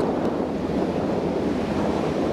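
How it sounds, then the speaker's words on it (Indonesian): Summer surf rolls onto a Japanese beach in a steady, dense wash of waves, mixed with breezy wind buffeting the microphone and no voices. "asik banget kalau kita bermain di pantai. Anginnya semilir, hawanya sejuk."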